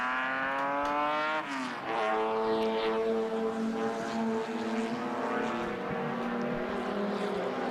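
Lister Jaguar Knobbly sports racing car at Silverstone, engine roaring loud and close with a rising then shifting pitch, harmonic drone holding steady as it passes and pulls away.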